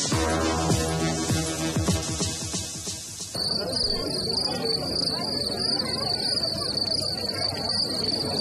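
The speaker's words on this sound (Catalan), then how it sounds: "El so dels grills, que omple les nits d'estiu" Crickets chirping at a cricket singing contest in Olot, a dense, continuous high trilling that carries on steadily, with a busier mixed passage before the clear shrill chorus takes over.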